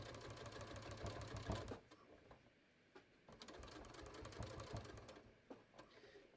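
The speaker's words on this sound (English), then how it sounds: "so let's start sewing right here." A sewing machine stitches a new patio cushion cover in steady whirring runs, pausing briefly near the two-second mark before starting up again, close and moderately loud with no talk.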